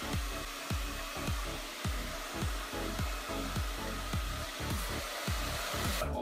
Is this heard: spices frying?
no